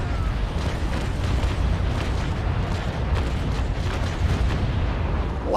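Ship cannons fire in the Naval Action naval battle game, a Trincomalee against a Belle Poule, as a dense, continuous rumble of broadside booms, loud and close, with no talk over it.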